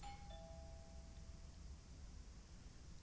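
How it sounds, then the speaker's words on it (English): A doorbell in the horror video game Within gives a single quick two-tone chime at the very start, faint and fading quickly over a low, steady background hum. "I should just ring the doorbell, see if he answers"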